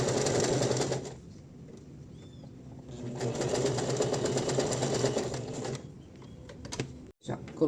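A sewing machine runs steadily, stitching elastic onto a soft fabric slipper boot, with a dense mechanical whir. It pauses briefly partway through, then resumes and stops near the end. No talking is heard.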